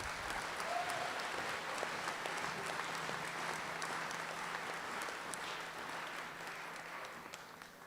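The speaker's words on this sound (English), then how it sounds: "Please give a round of applause for these people." An audience at the closing ceremony of the Coal Bowl 2023 girls' sports event gives a long, steady round of applause, dense and continuous, easing slightly toward the end.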